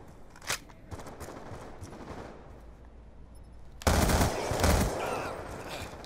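Gunfire in the Black Ops II multiplayer video game: rapid bursts of automatic fire crackle steadily at moderate volume, then grow louder and denser toward the end.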